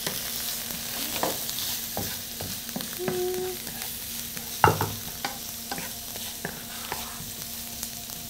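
Chopped eggplant is stirred in a hot pan, giving a continuous sizzle with repeated scraping strokes of a utensil and one sharp knock midway, with no one talking.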